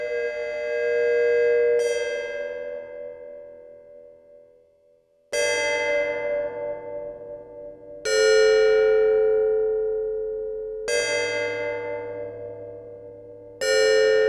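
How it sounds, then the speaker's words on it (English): Moog Matriarch synthesizer playing an FM bell patch with a short amp attack, four or five struck tones, each ringing out and slowly decaying, alone and clear. "With a shorter attack on the amp envelope, we can probably get a little bell sound."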